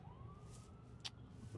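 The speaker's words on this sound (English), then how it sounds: "ambulance Halloween night" A faint ambulance siren wails somewhere outside on Halloween night, a thin, steady rising tone heard from a distance over low background rumble, with one brief sharp click.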